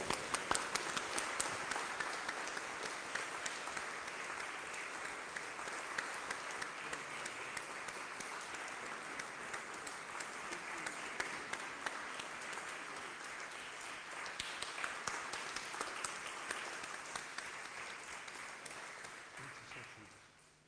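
Church congregation at an Anglican Sunday Mass applauds newly initiated members, a long even roll of many hands clapping that holds steady for about twenty seconds before tapering off at the end.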